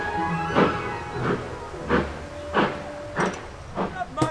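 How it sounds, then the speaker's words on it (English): Steam train leaving a station in the Yorkshire Dales, its chuffing exhaust beats coming as loud rhythmic bursts about every half second and steadily building, with hissing steam between them. "I never thought the train is leaving now again. It's just super loud."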